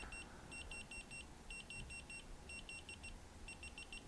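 A digital measuring tool centered between two objects chirps rapidly, giving faint, high-pitched clusters of four or five quick beeps about once a second, steady and alone.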